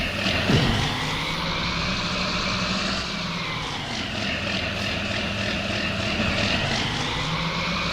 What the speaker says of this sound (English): Quite a big tractor for getting around here